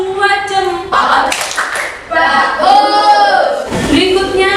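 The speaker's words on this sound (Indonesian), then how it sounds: "Kita kasih tepuk 2 jempol buat Farah dan Devi." Schoolchildren in a classroom do a patterned group clap to praise two classmates, with a few sharp bursts of clapping under loud voices chanting along.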